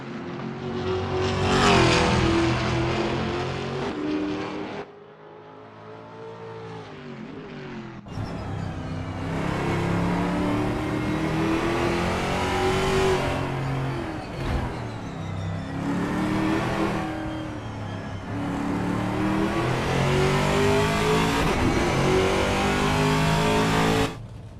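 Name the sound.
V8 Supercars race car engines in video game Assetto Corsa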